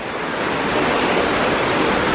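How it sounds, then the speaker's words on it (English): An indoor lobby water fountain at Wilderness Lodge bubbles and splashes in a steady, close, continuous wash of water with no talking. "it's right by the little bubbler, which is like my favorite thing ever"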